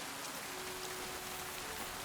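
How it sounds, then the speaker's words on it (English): Steady rain falling in Kingdom Come: Deliverance 2, a dense, even hiss of raindrops on surfaces that continues without a break at a moderate level and is heard alone. "Got a rain coming in."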